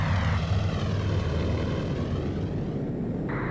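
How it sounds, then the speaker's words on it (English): Two unidentified fixed-wing aircraft close in with a steady, loud engine roar that fills the whole clip, a sustained droning rumble as a sound effect in a military audio drama, with no voices. "We have two unidentified aircraft closing on your position."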